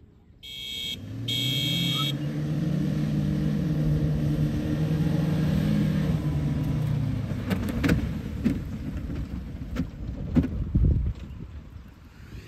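Two 4x4s, a Suzuki Jimny and a Toyota Fortuner, run a drag race with sustained engine drone that rises and falls as they accelerate, ending in louder bursts and rumbles near the close; a brief high beeping opens it.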